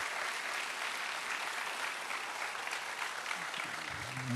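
A church congregation at a Friday prayer meeting claps together in steady, dense applause for several seconds, with a voice briefly coming in near the end.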